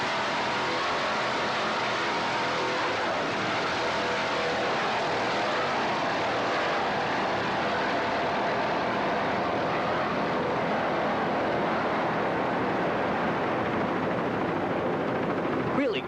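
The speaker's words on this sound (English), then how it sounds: "Just a well-trimmed race boat doing what it does best, racing out in the open ocean." Offshore race boat engines roar steadily, a Scorpion hull powered by Ross motors running hard on open ocean water at about 82 mph during a 1986 offshore regatta, a dense continuous drone with no pauses.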